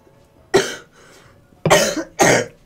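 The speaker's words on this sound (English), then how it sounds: "First cough of the day." Three sharp coughs from a person gaming indoors, one at about half a second and a close pair near the end, loud and near with a faint throat noise between them.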